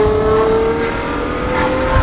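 A loud supercar engine idles and revs nearby while warming up, a throaty continuous drone rising slightly toward the end.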